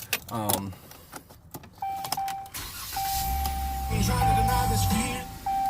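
A standard Dodge key for a 2016 Ram 1500 pickup jangles inside the cab, followed by a chime and the hum of an electric motor. A person speaks briefly at the start.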